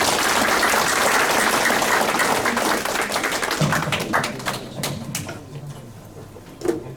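Audience applause at the close of a lecture on the 21st century and Korea's future, a dense wash of clapping that gradually thins and fades, with scattered individual claps near the end.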